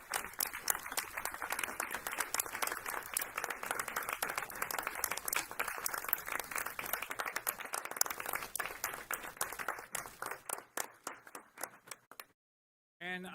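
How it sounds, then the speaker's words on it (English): An audience at a school board meeting applauds school principals, dense sustained clapping from a room full of people that stays steady, then thins out and stops abruptly, followed by a faint murmur. "let's give the round of applause to our, if you're a principal in the room, please stand up"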